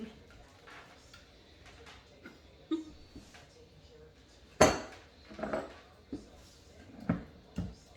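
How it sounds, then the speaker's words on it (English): A spoon stirs pineapple coconut chicken curry in a metal pot, giving scattered clinks and scrapes against the sides, with one sharp knock midway and several lighter taps after it over a quiet kitchen background. "give that a stir"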